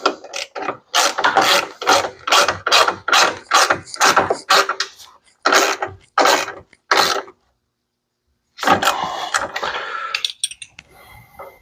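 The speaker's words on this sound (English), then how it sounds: "take our ratchet and actually get these tight" A ratchet wrench clicks rapidly in repeated bursts while tightening bolts on a winch mount on a 2017 900 EPS ATV, loud and close, with short pauses between runs and a longer gap before a final stretch of ratcheting.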